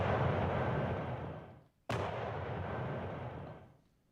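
Artillery bombardment in the Napoleonic Wars strategy game Combat Directive: a sustained, rumbling barrage of cannon fire. It cuts out briefly, then a sharp crack restarts it, and it rolls on before fading away.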